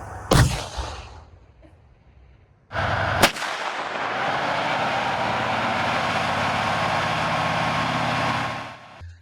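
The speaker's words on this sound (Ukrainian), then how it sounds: "танк готовий здійснювати тренувальні постріли" Two heavy booms crack out from a T-72 tank firing armour-piercing training rounds, the second followed by a long, steady engine-like roar that holds for several seconds before fading.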